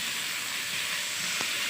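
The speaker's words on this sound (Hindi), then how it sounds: "अच्छी तरह फ्राई कर लें कि इसका कलर चेंज हो जाए, वाइट हो जाए।" Chicken frying in a pan, a continuous loud hissing sizzle close up with a brief scrape partway through.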